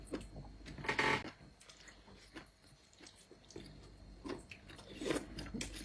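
Close, wet chewing and biting of tender pork from a bowl of La Paz Batchoy noodle soup, soft squishy mouth sounds coming in uneven bursts.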